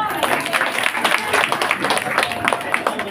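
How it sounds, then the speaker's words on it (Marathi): Continuous clapping from a group of women at a Haldi-Kumkum gathering of a women's association, dense and steady throughout at moderate loudness. "सर्व महिलांनी जोराने टाळ्या वाजवून."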